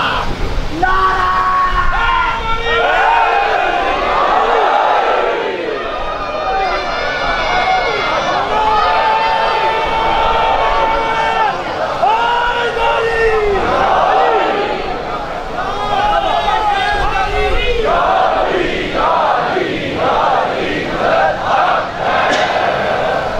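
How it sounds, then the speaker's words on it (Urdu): A large crowd at a majlis in Model Town answers a slogan chant with loud, sustained massed shouting and yelling. Voices surge in waves that stay dense and forceful throughout, and the crowd sounds close. "بلند کر کے پوری طاقت سے نعرے کا جواب دے گا۔"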